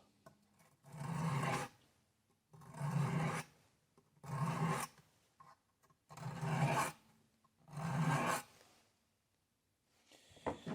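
Soft steel of a Schrade Imperial IMP16s pocket knife scraped across a 300 grit sharpening stone in five even, rhythmic rasping strokes, close and clear with short pauses between them.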